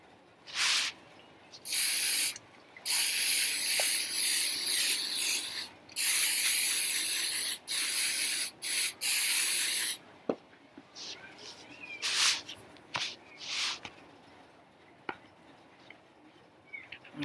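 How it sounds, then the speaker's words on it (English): Aerosol spray can soaking paper laid on carpet, delivered in several loud hissing bursts of one to three seconds each, with gaps between them, followed by softer handling noises and brief lighter spritzes. "you're just going to spray it down"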